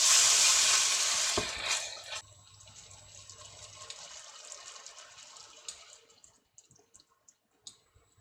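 Homemade gnocchi in oil in a pan, starting with a loud hiss that drops to a quieter crackling sizzle with scattered pops and clinks as the cooking goes on.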